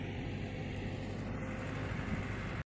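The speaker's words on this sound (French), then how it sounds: "excusez-moi pour le bruit du tracteur." A tractor passes on a rural road, its engine making a steady, fairly close rumbling drone that cuts off abruptly.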